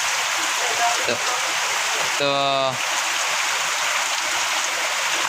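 Steady rain falls at a newly started house construction site on a farm, a dense even hiss filling the whole stretch, with a brief voice and a short tonal call rising over it midway.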